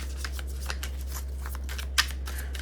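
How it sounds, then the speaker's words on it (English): Tarot cards shuffled close by in a few quick riffling bursts, soft papery flutters with one sharper snap near the end, over a steady low electrical hum. "let me shuffle some cards before I say this"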